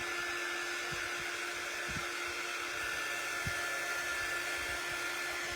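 Hair dryer blowing steadily on shimmer paint, a constant whirring rush of air held at a fairly quiet level throughout, with a few faint light knocks underneath and no talking.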